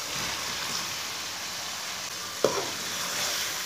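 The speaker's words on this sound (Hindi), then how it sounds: "गोभी डाल के इसे 3 मिनट तक भून लेना।" Cauliflower fries in a spice masala over medium heat, a soft, even hiss like light rain, with one brief clatter of a spoon near the middle.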